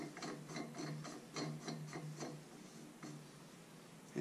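Ratcheting clicks from tightening a 3D printed baffle onto the barrel of an Air Venturi Avenger air rifle, several quick bursts of close, moderately loud mechanical ticks with short pauses between them.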